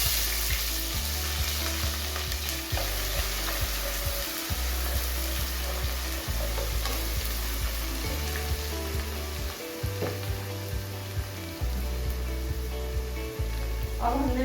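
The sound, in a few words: onion frying in hot oil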